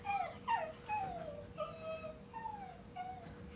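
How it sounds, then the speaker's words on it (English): A dog whimpers and cries in a run of high, falling whines, about six plaintive yelps close by, with no voices. "So that's my dog crying."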